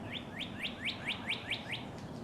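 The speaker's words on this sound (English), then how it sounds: "There's a cardinal chirping in the background." A cardinal chirps in a spring garden, giving a regular series of about eight sharp, bright chirps at an even rhythm, moderately close, over quiet outdoor background.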